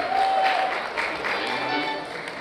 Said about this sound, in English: tremendous round of applause out here once again for Kumar and Renu